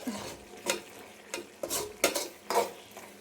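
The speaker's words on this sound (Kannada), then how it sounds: "ನಾನು ಮಾಡ್ತಾ ಇರೋ ಟೊಮೊಟೊ ಗೊಜ್ಜು ಈ ರೀತಿ ಆಗೈತೆ ಸೊ ಚೆನ್ನಾಗಿ ಬೇಯ್ತೈತೆ" Tomato gojju simmering and sizzling in a pan while a spoon stirs it, giving several soft scraping strokes in an irregular rhythm, close and fairly quiet, with no voices.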